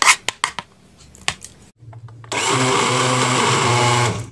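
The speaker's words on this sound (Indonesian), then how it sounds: "Kita campurkan aja ke blender, kita blender lagi agar merata ya." Electric blender mixing purple sweet potato batter: after a few light clicks and handling knocks, the motor starts and runs loudly and steadily nearby for about two seconds before stopping.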